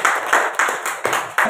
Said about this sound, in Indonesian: Tepuk tangan Bapak Iman.